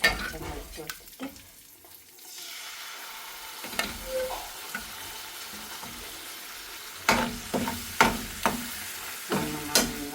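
Cooked mutton is stirred into a green chilli kurma masala in a pan, giving soft scraping and sizzling with several sharp spoon clanks against the pot near the end, no talking.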